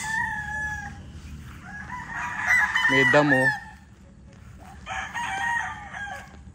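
A rooster crows loudly amid steady clucking of chickens close by in a spacious coop, with another shorter crow near the end and a brief voice in the background.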